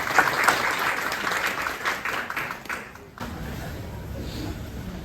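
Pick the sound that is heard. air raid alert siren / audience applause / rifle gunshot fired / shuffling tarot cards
audience applause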